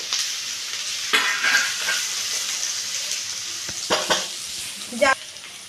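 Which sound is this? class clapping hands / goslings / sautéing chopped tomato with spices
sautéing chopped tomato with spices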